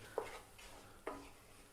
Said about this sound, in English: work this butter into the flour and cook it